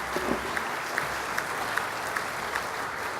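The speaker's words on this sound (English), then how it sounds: "Let's give him a round of applause." Indoor audience applauding a speaker at a downtown association awards ceremony: sustained, dense clapping from a crowd at moderate volume, with a few distinct claps standing out at a regular pace.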